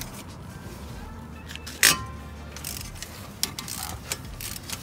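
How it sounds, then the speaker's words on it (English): A ratchet clicks in short bursts while loosening a strut bolt during axle work on a Saab 9-2X, close and fairly faint, with scattered metallic clanks. "So right now we're taking out the strut bolt"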